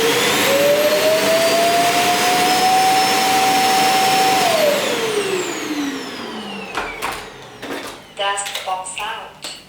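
The base station of a Lenovo T1 Pro robot vacuum self-empties, pulling dust and rice out of the robot with a loud, roaring suction whine that ramps down after several seconds, followed by scattered clicks and short mechanical bursts.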